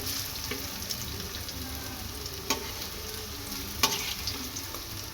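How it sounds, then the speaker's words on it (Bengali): Batter fritters frying in hot oil for a crisp finish, a steady soft sizzle with a couple of sharp clinks from a utensil against the pan, no voices. "এগুলো একটু কড়া করে ভাজবো"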